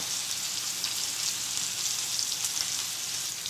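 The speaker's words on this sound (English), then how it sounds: "So it's searing, it's smoking." Ribeye steaks sear in a hot, smoking pan, giving a steady, loud, dense sizzle with faint crackles and no talking.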